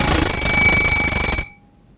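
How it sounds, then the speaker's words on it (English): A simple mechanical kitchen timer rings out as its time runs down, a loud, dense, jarring metallic bell rattle lasting about a second and a half before cutting off sharply into near silence. "These are simple mechanical timers."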